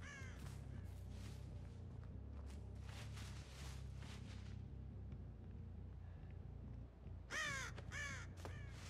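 Several crows caw in Dead by Daylight, first in scattered calls, then in a loud, close burst near the end, over a low ambient rumble.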